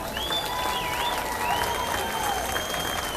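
A crowd applauds steadily for a preschool group from Faith Lutheran Preschool and Child Care Center at an Irish Days street event in Murphys. Dense, even clapping continues throughout, with faint whistles rising above it.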